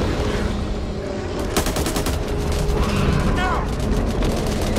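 Heavy gunfire rattles through Back 4 Blood on PS5, dense automatic bursts and sharp cracks layered over a constant loud din of combat, with a voice shouting briefly.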